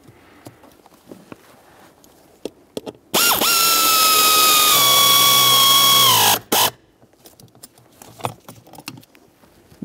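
A power tool tightens the blower motor resistor mounting bolts on a 2007-2013 Acura MDX, one loud, close whirring burst of about three seconds that ends abruptly, with small clicks and handling noises around it.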